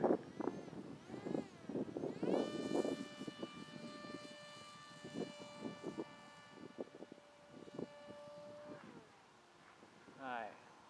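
A StarHopper Bixler model airplane makes a slow flyby outdoors. Its steady electric motor whine rises, holds for several seconds and then fades, with voices talking underneath and faint wind.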